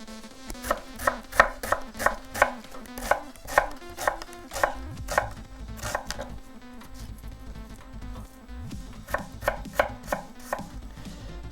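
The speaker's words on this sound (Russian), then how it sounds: "И сразу же нарезаем первым делом. Это у нас идет лук. Нарезайте мелко." Onion chopped finely with a knife on a cutting board for shakshuka: quick, rhythmic runs of crisp knife taps in bursts, close and fairly quiet, with a faint buzzing hum underneath.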